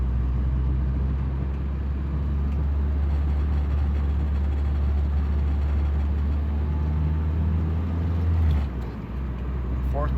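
A 1986 Honda Accord with a swapped Integra transmission drives along, its engine droning steadily under continuous road noise, fairly loud and close, with a brief dip near the end as gears change.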